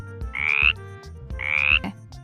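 A frog croaks twice in a calm setting, each call a raspy, buzzing burst of about half a second, the two evenly spaced and clear with nothing else heard.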